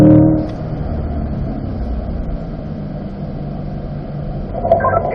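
A car runs a lap on a race track during a coached session, its engine droning steadily from inside the cabin with a low, even rumble and a slight lift near the end.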